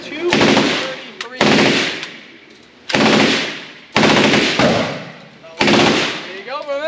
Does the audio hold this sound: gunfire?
yes